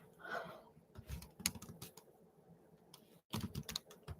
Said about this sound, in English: I'm just typing names so we know that I've kind of, so I kind of keep my brain intact here.